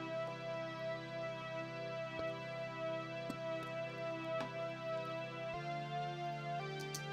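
A full mix of a synth track: sustained, gently pulsing synth chords with soft percussive ticks, quiet and steady, with one chord change near the end.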